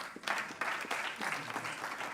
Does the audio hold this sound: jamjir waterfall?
no